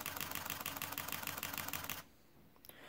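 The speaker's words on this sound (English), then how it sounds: "I can do 8 frames per second mechanical shutter" A Fujifilm X-T30 mirrorless camera fires its mechanical shutter in a rapid burst of about 8 frames per second, a fast even string of crisp close clicks that stops abruptly partway, leaving near silence.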